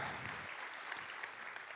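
An audience at a BSides Orlando 2018 conference opening ceremony claps and cheers, a dense steady patter of applause heard from within the room.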